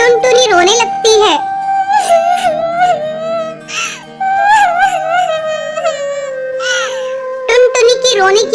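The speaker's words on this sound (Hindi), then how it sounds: "टुनटुनी की रोने की आवाज सुनकर रानी चिड़िया वहाँ आती है।" A cartoon bird character cries in a high, wavering, sobbing voice, loud and close, with repeated wailing pitch swoops through most of the stretch.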